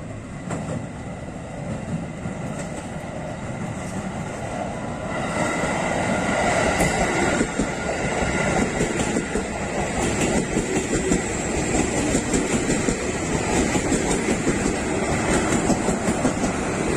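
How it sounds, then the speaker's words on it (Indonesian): An electric commuter train, a JR 205 series near Angke station, rolls past steadily, a loud rushing rumble with rhythmic clacking of wheels over rail joints, building slightly as it goes by. "kita mendapatkan satu rangkaian KRL pertama"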